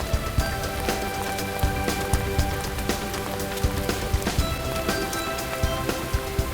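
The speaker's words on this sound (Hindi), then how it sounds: "बारिश कहाँ से आ गई चलो यार?" Steady rain patters on a hard surface with scattered louder drops, continuous and close, with no voices.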